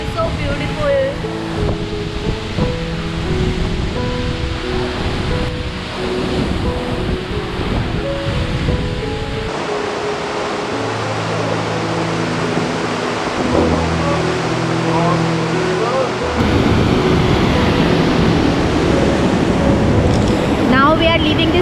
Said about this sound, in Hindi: पूरा पानी के फुहारे उड़कर आ रहे हैं।